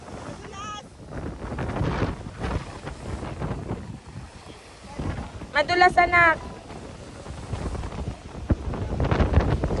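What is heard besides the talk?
strong sea waves at a Batangas freediving spot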